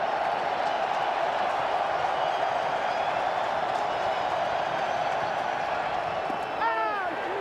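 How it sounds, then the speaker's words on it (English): A large baseball stadium crowd roars steadily throughout, a dense, continuous wall of cheering and noise without a break, with a brief whistle-like sound near the end. "This crowd has been alive since the first pitch, trying to will its team to victory."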